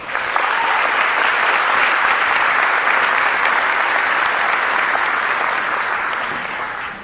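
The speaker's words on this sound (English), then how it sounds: "Let's give them a round of applause." Loud, steady applause from a large crowd at the Waccamaw High School 2019 graduation ceremony, sustained for about seven seconds before tapering slightly at the end, with no talk over it.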